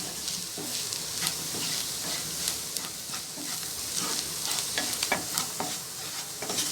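Turmeric and spices fry in oil in a pan while being stirred, a bright continuous sizzle layered with quick scraping strokes of a spoon, near and lively, with no talking.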